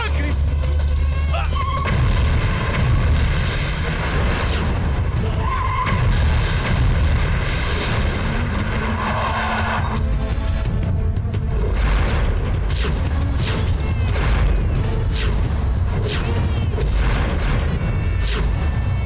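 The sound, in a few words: bomb explosion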